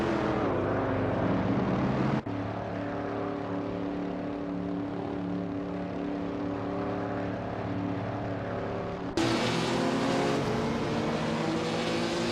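Mustang race cars and a vintage 1970 Alfa Romeo Montreal run in a tightly contested race, engines droning loudly and continuously with harmonic whine, a sharp shift near two seconds and another car surging louder near nine seconds.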